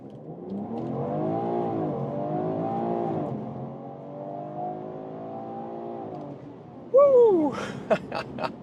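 A 3-liter six-cylinder BMW Alpina B3 GT pulls hard under launch control, its engine note rising and sweeping upward through the gears, then easing. It ends in a sharp whoop of excitement and a few quick knocks.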